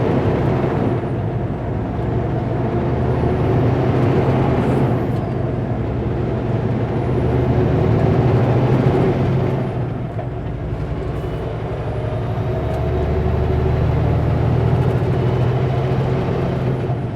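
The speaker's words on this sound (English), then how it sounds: "Logging truck is pulling off." A logging truck pulls away on a mountain road in autumn, its engine a loud low rumble that rises and falls as it moves off, with hissing bursts of air brakes.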